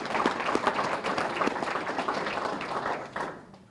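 Applause for a sponsor at the 2019 Fiesta Days rodeo Hall of Fame event, a steady crowd clapping that runs for several seconds and fades toward the end.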